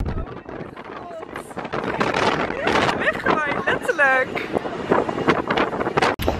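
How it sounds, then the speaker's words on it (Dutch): Gusty wind buffets the microphone hard while someone talks outdoors, her voice partly drowned by the roaring, blustery noise. "Het waait heel hard. Dus ik weet niet of je me hoort."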